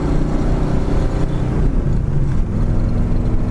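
Steady, loud engine drone from a 1955 Ford on the road, the low rumble holding through a gear change into fourth with a slight dip and settle, no talk over it.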